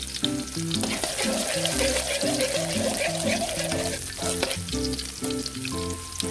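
Garlic frying in a pan for a coconut-milk vegetable dish, a loud constant sizzle with stirring, over a bouncy backing tune and no talking.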